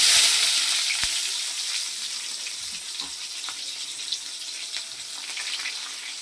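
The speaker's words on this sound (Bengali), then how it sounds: "তারপর পেঁয়াজ কুচি দেবো। এই যে পেঁয়াজ কুচিগুলো দিয়ে দিলাম।" Chopped onions tossed into hot oil already tempered with bay leaf and whole cumin, frying for a country chicken curry; a steady close sizzle and hiss runs throughout, with a few light clicks and stirring sounds.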